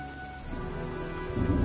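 Steady rain with a low rumble of approaching thunder in the video game Heavy Rain, a continuous wash that swells louder toward the end, no voices.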